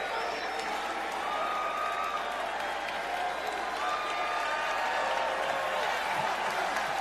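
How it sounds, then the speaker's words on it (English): A large arena crowd applauds steadily at a WWE event, a dense continuous wash of clapping with cheering mixed in, no single voice standing out. "everybody's clapping now"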